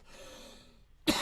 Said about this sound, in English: that cough has got nothing to do with the coronavirus